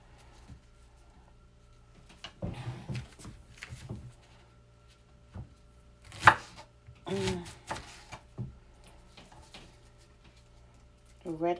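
A sharp knife chops beef liver into pieces on a board, giving scattered short cuts and taps spread through the clip, with a person talking over the work.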